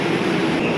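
MRT metro train passing in Manila, a steady loud rumbling roar of the railcars rolling by nearby.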